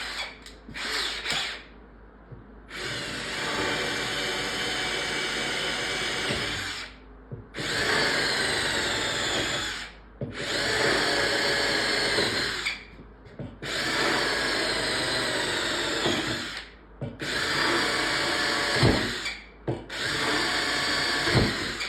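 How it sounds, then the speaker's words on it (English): A cordless power drill bores holes in arcade cabinet panels during a Taito Qix conversion restoration, several sustained high-pitched whining runs of a few seconds each separated by brief pauses, close and loud. "now what I need to do is drill 3 holes in each one in the center of it"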